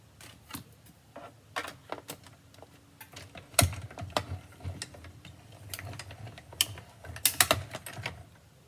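Paper being cut for a handmade card, a run of close, crisp snips and clicks, with sharper cuts standing out near the middle and the end.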